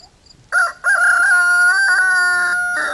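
A rooster crows close and loud on an off-grid homestead, one short call and then a long drawn-out cock-a-doodle-doo, heard alone over faint background.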